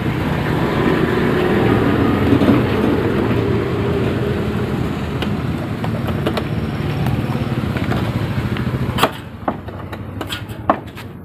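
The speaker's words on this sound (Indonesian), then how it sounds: "kita ketemu motor starter kasar yang seperti ini dengan kendala starternya itu bermasalah" A Honda Beat FI scooter with a faulty, rough-sounding starter motor grinds in a steady, harsh whir for about nine seconds, then cuts off, leaving a few sharp clicks.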